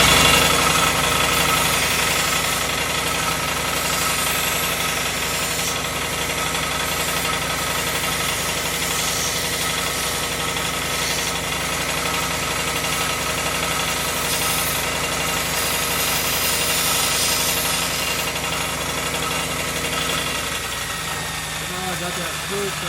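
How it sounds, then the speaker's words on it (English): A belt sander drones steadily throughout while a wooden spaghetti utensil is shaped against the belt, a constant loud motor hum and abrasive whir with slight variations as the wood is pressed, and a person talks intermittently over it. "So here is the belt sander"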